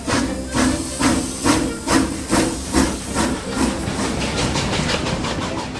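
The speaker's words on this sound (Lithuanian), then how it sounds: "Puškėdamas dūmais ir garais, riedėjo pro medinės Guronių kaimelio pirkes" A steam train pulls away from a village stop, its exhaust chuffing in loud, evenly spaced hissing puffs that quicken and then blur into a continuous rolling hiss as it gathers speed, with no talking.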